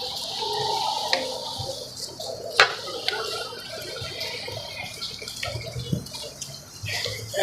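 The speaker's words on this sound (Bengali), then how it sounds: "এত ঝড় বৃষ্টি" Heavy storm rain in Riyadh splashes and runs close by, a steady wash of water broken by irregular louder splashes.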